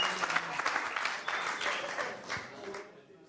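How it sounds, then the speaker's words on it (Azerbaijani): Wedding audience applauding, a dense burst of clapping that fades out within a few seconds, moderately distant. "Alqışlayıram."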